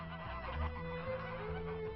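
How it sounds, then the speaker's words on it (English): Geese honk in a steady stream of nasal calls, fairly close, with a constant low rumble underneath. "It seems as if the geese want to show us the way to our next destination."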